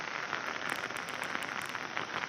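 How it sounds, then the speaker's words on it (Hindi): Heavy monsoon rain in Srinagar, falling steadily for days during flooding, makes a dense, unbroken hiss of drops striking surfaces close by, loud and constant throughout with no pauses. "यहाँ पर 2 दिन से लगातार बारिश हो रहा है"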